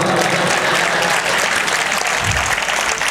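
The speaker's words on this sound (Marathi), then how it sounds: "राऊत आहे, टाळ्या वाजवा" An audience at a Marathi poetry gathering in Ambajogai applauds continuously, a dense, close wash of clapping with no pauses throughout.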